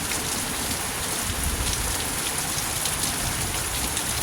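Heavy, steady rain pours down in bad weather under a flood warning, a dense, even hiss that continues unbroken from start to finish, with no voices.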